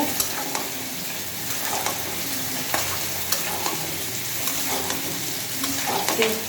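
Curry being sautéed and stirred in a pan, with a steady sizzle and repeated scraping stir strokes at close range, no voices.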